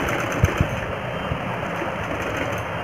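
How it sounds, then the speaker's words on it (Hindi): A sewing machine stitches fabric for capri pants in a steady, close mechanical whir with a few soft knocks near the start, running alone without talk. "तो यहाँ तक मैं सिलाई लगा लेती हूँ और फिर इसको ऐसे करके राउंड में सिलाई लगा देती हूँ पूरी"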